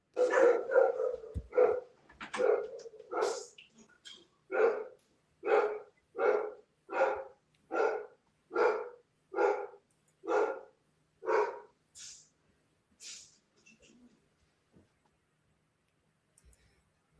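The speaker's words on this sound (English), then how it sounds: "sounds like your dog is in agreement" A dog barks in a long regular series of about a dozen sharp, evenly spaced barks, fairly close and loud, the first few rougher and the last ones fading before quiet.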